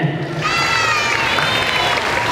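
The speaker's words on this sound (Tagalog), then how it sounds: "Palakpakan!" A lively crowd of children and adults at a foundation's anniversary show applauds and cheers after a human beatbox act, loud dense clapping mixed with shouts and excited voices.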